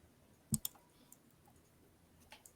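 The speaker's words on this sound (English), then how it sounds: "That was me moving the microphone." A microphone is shifted by hand, giving two sharp, close clicks in quick succession and then a few fainter knocks and handling rustles, all over quiet room tone.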